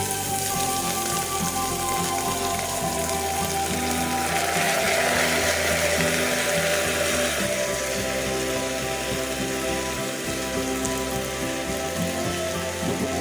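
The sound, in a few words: soaked drained rice frying and being stirred in a pot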